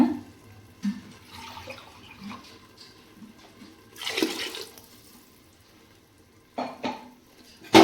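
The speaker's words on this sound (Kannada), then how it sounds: "ಈಗ ನಾನು ಇದಕ್ಕೆ ನೀರು ಹಾಕ್ತೀನಿ." Water rinsed from a mixer jar is poured into a cooking pot of palak pulao, making a brief gushing splash amid scattered clanks of utensils.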